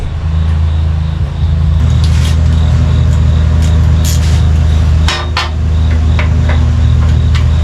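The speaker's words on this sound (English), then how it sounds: "So I'm going to go ahead and take that last bolt off." Last bolt coming off a lawn mower motor over a loud steady engine hum, with several sharp metallic clinks and taps of tools on metal close by and no talk.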